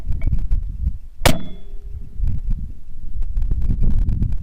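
A single sharp metallic clang of a 6.5 Creedmoor bullet hitting a distant steel target rings out against gusty wind noise, followed by a short fading ring.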